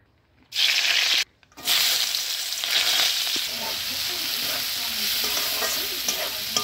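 Eggs frying in an oily wok, a loud continuous sizzle close by that cuts out briefly near the start and then resumes steadily with small crackles.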